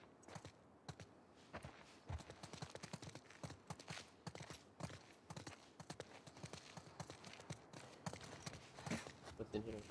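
Horse hooves clip-clopping in The Last of Us Part II, a dense, steady run of sharp hoof strikes at close range continuing throughout.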